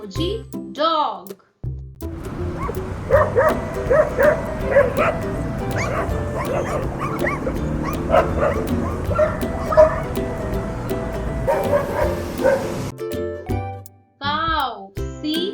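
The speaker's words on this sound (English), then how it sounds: "Dog. D-O-G. Dog." A dog barks and yips repeatedly over light background music, with a child's sing-song voice briefly before and after the barking.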